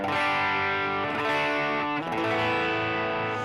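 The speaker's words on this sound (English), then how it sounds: "I've got an MXR Sugar Drive on the floor" Electric guitar played through an MXR Sugar Drive overdrive pedal, loud distorted chords ringing and sustaining, changing roughly every second with a brief pick attack between them.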